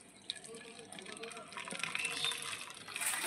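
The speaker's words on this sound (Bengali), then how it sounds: "আর এখানে জল নিয়ে নিয়েছি, এই জলটাও ভরে দেব" Water is poured into a container while homemade Thums Up cola is being made, a quiet splashing, filling trickle that grows fuller, with a voice speaking over it.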